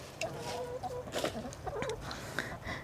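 A hen in a backyard chicken run clucks repeatedly in short, irregular bursts, close by and fairly loud over low background noise.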